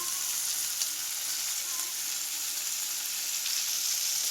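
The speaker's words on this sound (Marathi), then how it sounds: "मच्छी फ्राय झाली आहे" Jitada fish fries in a pan, a bright steady hiss of oil sizzling at even intensity with faint crackles, fairly quiet and continuous with no talking.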